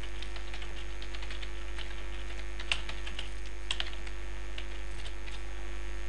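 Steady typing of HTML markup in Notepad on a computer keyboard, keys clicking at an uneven pace over a constant electrical hum.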